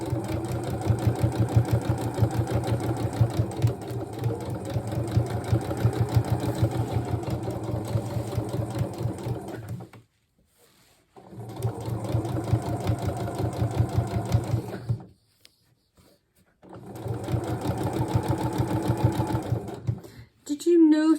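A sewing machine stitching a seam on a wool-style coat runs in three steady, close bursts of rapid mechanical whirring, each several seconds long, separated by short pauses of near silence.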